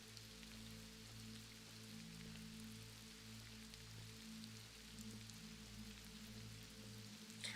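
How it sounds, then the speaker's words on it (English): Steady rain patter in the video game Mortal Online 2 hisses across the whole stretch, with a low pulsing hum and droning tones running underneath, no voices. "I'm very much over the sunny sky with rain noises."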